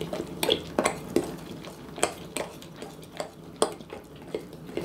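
A utensil stirs and clinks in a bowl to work lumps out of a gluten-free banana pancake batter. Soft scraping runs between irregular light taps against the bowl, quiet and close.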